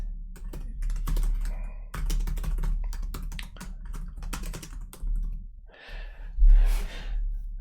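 Close, rapid typing on a computer keyboard, a dense run of sharp key clicks with brief pauses, followed by a couple of audible breaths or sighs near the mic.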